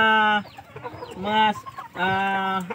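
Two loud, close bursts of an Aseel Shamo chicken's harmonic clucking calls, with a quieter gap of softer fowl sounds between them.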